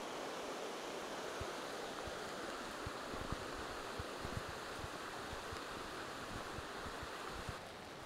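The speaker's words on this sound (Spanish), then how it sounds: "este es el río Ibias" The Ibias river in Asturias, Spain, flows steadily along a hiking trail with a continuous, even rush of water that stays close and fairly loud throughout.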